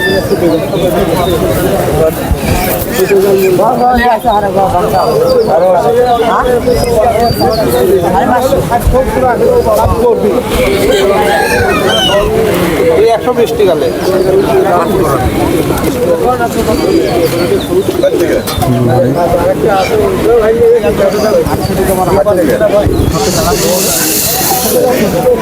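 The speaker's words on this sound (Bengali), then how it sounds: "এই যে আমাদের নতুন ব্যাপারীর কবুতর" Pigeons coo and flutter among crowds at a busy Thursday pigeon market in Nazirpur bazaar, the soft repeated coos mixed with a constant hiss of market noise and people talking close by throughout.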